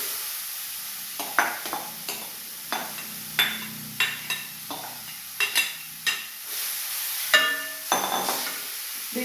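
Beetroot frying with spices in a pan, curry leaves and mustard seeds already sputtering, heard as a soft sizzle broken by repeated scraping and clinking stirring strokes at an uneven rhythm.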